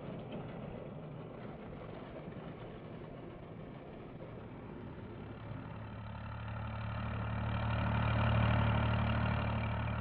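A 1974 Standen Rapide sugar beet harvester engine drones steadily in a field, a continuous low rumble that swells louder toward the end.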